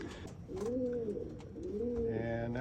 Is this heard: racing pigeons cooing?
yes